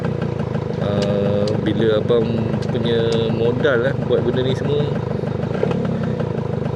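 A restored Yamaha Y110ss motorcycle engine runs steadily at close range, a continuous buzzing drone with slight revving shifts, while someone talks over it throughout.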